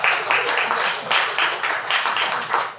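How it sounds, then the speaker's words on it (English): A room of seminar attendees at a financial advice talk claps for a man at the back, a dense, fairly close burst of applause that pulses and holds for a few seconds. "Let's give a round of applause to this gentleman at the back."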